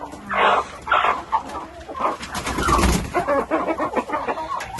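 An old rooster makes a series of loud, close, raspy calls and clucks, rising and falling in short bursts with no talking.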